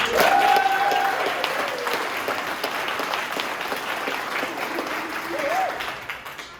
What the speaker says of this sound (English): Before they begin, give them a big round of applause.